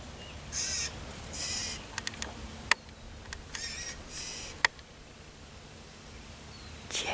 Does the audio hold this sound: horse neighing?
no